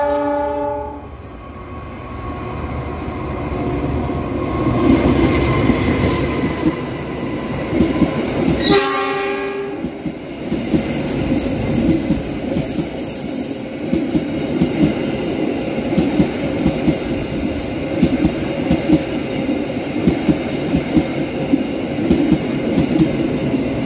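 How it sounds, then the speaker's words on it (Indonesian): Turangga passenger train passing straight through Ciawi station without stopping, opening with a loud horn blast, then a long steady roar of wheels and rattling cars rushing close by. "langsung muncul dari jalur 2 kereta api Turangga. Persiapan melintas langsung stasiun Ciawi."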